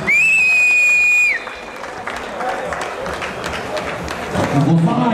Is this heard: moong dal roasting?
no